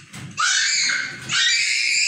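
Children playing indoors, letting out two long, loud, high-pitched screams close by, with some lower rustling and background noise beneath.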